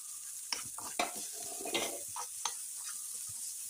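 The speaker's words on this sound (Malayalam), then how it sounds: "നമുക്ക് സവാള ചെറുതായി അരിഞ്ഞു വെച്ചത് ഇട്ട് കൊടുക്കാം. അതൊന്ന് നന്നായിട്ട് ഇളക്കിയെടുക്കണം." Chopped onions frying in a pan for a quick potato dish, stirred with several distinct scrapes and clinks over a steady close sizzle, no voices.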